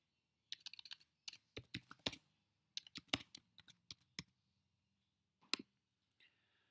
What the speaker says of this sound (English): we just want to click on the next box and type it in